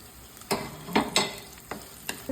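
Shallots with ginger and garlic stirred in a frying pan for a crab roast, with soft sizzling and several sharp scraping strokes of a spoon against the pan at irregular intervals, close and fairly loud.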